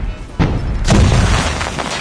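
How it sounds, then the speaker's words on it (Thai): A heavy explosion goes off in Call of Duty Mobile during a Hardpoint match: a sudden loud boom about a second in, then a rumbling, crackling tail that fades slowly. "ทำไมผมโดนระเบิดอย่างเดียวเลยวะ"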